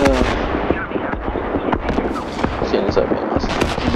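Tank guns firing in War Thunder: sharp cannon blasts and rapid bangs close by, crackling irregularly over a busy battle din while a voice talks.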